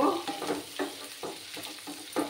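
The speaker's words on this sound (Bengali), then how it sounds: "পেঁয়াজগুলোকে এবার একটু লাল করে ফ্রাই করে নেব।" Sliced onions sizzle in hot oil in a pan while being fried until browned for a Bengali-style mutton masala, with a soft continuous crackle broken by repeated scraping stirs at a steady pace.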